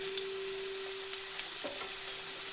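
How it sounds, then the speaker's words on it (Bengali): Potatoes and pointed gourd fry in oil in a wok, giving a steady, close, even sizzle with a faint low hum underneath and a brief stirring scrape partway through. No one speaks. "প্রথমে আলু আর পটলটাকে একটু ভেজে নেব।"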